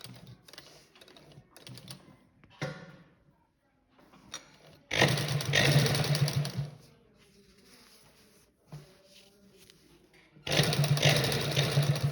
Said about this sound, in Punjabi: ਪਹਿਲਾਂ ਇਹਦੇ ਨਾਲ ਨਾਲ ਸਿਲਾਈ ਲਾਵਾਂਗੇ